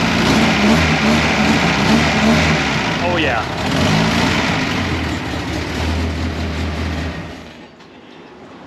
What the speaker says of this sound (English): Now that's an exhaust.